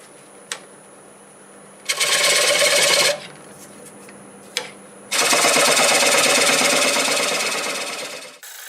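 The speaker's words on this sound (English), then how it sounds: "I'm going to start with a 1/2-inch bowl gouge and remove most of it." A half-inch bowl gouge cuts the tenon of a wild cherry bowl spinning on a lathe, two loud, harsh, sustained shearing bursts over the low hum of the machine, close up and without talking.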